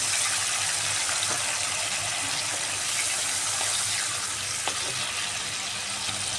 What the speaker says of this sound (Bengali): এবার এর মধ্যে দিয়ে দিচ্ছি আমি সামান্য জল